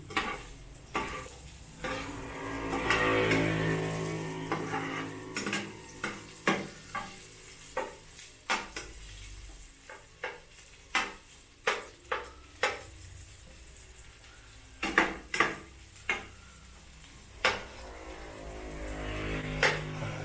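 Onion and softened garlic frying in a pot for Filipino mussel tinola, stirred with a utensil that scrapes and clinks in a steady run of sharp knocks over a soft, continuous sizzle, with no talking.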